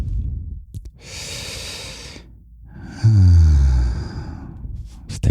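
A person takes one slow, deep breath, a long airy inhale followed by a fuller, louder exhale with a low rasping edge, close to the microphone in a quiet room.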